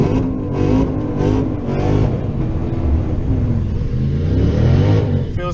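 A Ford Crown Victoria doing a tire burnout at a drag strip before a race, its engine revving in a steady, loud, rumbling drone throughout with no talk.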